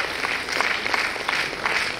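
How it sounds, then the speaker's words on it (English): An audience at a Women's Day event applauds warmly, a steady, moderately loud wash of many hands clapping together for two seconds. "you need to give them a warm round of applause"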